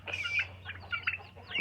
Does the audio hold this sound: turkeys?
yes